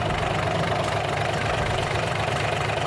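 A truck engine idles smoothly and steadily at close range, a constant low rumble with no revving and no voices.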